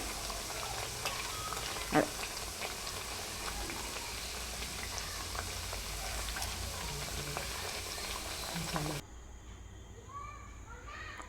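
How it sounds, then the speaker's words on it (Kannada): Onions frying in oil for Maddur vada, a steady crackling sizzle that continues under quiet talk before dropping to a softer bubbling near the end. "ಗೋಲ್ಡನ್ ಬ್ರೌನ್ ಬರೋ ತನಕ ಫ್ರೈ ಮಾಡ್ಕೋಬೇಕು"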